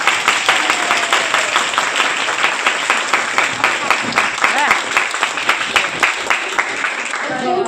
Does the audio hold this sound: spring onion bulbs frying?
no